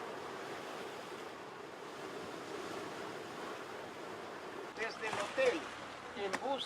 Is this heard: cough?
no